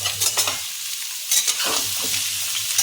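Onions sizzle in a pan as they fry for a shredded chicken dish. Loud scraping stirs come in bursts over the continuous crackle, with no talking.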